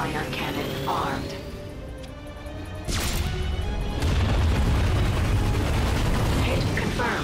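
Loud Ratchet & Clank combat with a booming Starwatch ion cannon blast and rumbling crash, followed by sustained roaring noise; a synthetic voice talks over parts of it.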